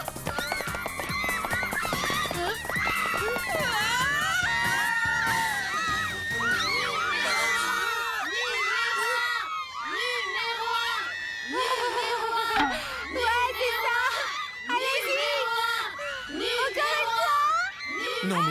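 A crowd of excited children, girls among them, shouts and cries out over one another in an animated cartoon scene, loud and continuous throughout.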